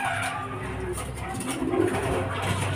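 Racing pigeons coo near a loft during a derby bird arrival, soft repeated cooing close by under steady outdoor background noise, with faint voices nearby.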